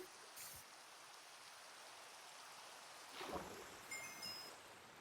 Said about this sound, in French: nous sommes confrontés à un phénomène où il ne pleut que sur la rive